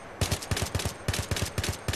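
A rifle fires three-round bursts in Battlefield 3, loud rapid cracking shots in tight clusters, several bursts in quick succession with brief gaps between.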